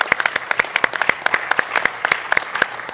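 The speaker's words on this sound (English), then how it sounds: "Let's give them a round of applause" Audience applause at a Hanwha MOU signing ceremony: a steady run of many sharp, close claps lasting throughout, moderately loud, with no speech over it.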